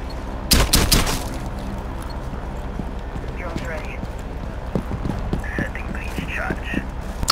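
Gunfire from the game Rainbow Six Siege on the Border map during a team deathmatch, with a loud close burst early on followed by scattered sharp shots and clattering game effects under a player's talk.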